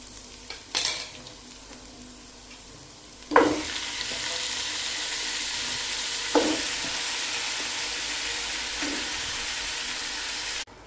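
Chicken tipped into a pan of fried onions sizzles steadily, with a loud splash and hiss as it lands and a few stirring scrapes breaking through the continuous close frying.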